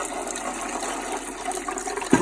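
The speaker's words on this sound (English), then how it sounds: "we're gonna put 2 quarts of water in" Water pours steadily into a T-fal 22-quart pressure canner, a continuous splashing gush that ends with a brief clunk, no talking.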